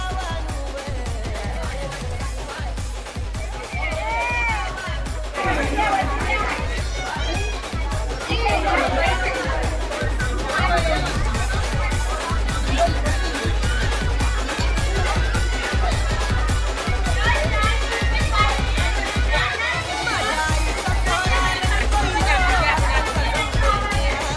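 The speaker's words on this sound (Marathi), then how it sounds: "पण गर्दी जबरदस्त आहे." A large crowd of devotees packs a village temple festival of the goddess Kelamba Mauli in Kharoshi, Pen, with loud, continuous crowd babble, children's voices and a steady rhythmic drumbeat, plus nearby people talking.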